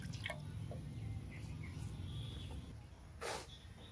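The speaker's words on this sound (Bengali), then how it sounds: "জল ফেলে দিলাম, মাছটা আরো 2-1 বার হালকাভাবে ধুয়ে নিয়ে রান্না শুরু করবো।" Water tipped off freshly washed hilsa fish: a quiet run of drips and light trickling, with a brief louder splash near the end.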